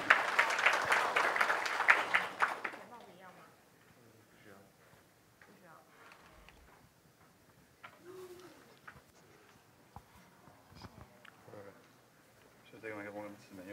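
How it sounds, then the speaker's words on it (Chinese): Applause from a conference audience at HITCON CMT 2017 welcomes a speaker, loud and dense for about three seconds before fading out. Quieter talking, with a few microphone sounds, follows. "那我们先请各位掌声欢迎木棍"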